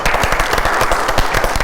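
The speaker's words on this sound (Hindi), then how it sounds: "बहुत सारी तालियां।" A television talk show studio audience breaks into sustained, dense applause, loud and close, a steady wash of many hands clapping without pause.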